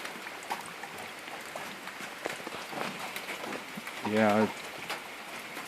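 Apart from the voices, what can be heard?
light rain falling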